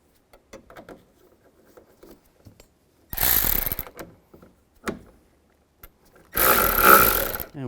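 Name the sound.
ratchet tightening nuts on Nissan Xterra rear view mirror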